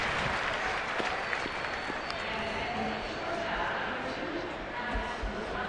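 A large ballpark crowd at a Cincinnati at San Francisco baseball game keeps up steady, dense applause and murmur, with a broadcast voice over it.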